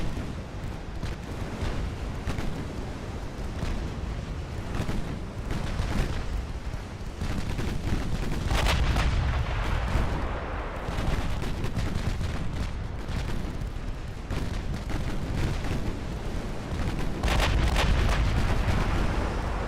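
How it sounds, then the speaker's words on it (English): Warship guns firing in Ultimate Admiral Dreadnoughts make a steady rumble of distant booming salvos. Repeated heavy reports sound under a continuous roar of naval battle noise. "Firing the guns, let's go."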